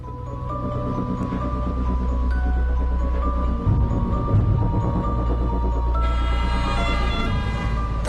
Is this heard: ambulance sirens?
yes